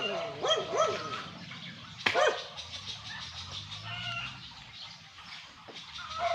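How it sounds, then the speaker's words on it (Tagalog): A dog barks and yelps several times nearby, with a sharp louder burst partway through, over a noisy outdoor background. "maingay ang aso"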